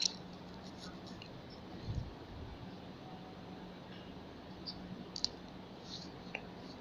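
Lifelong LLM180 electric handheld massager being opened, a few sharp plastic clicks and snaps scattered over a quiet background, with no one talking.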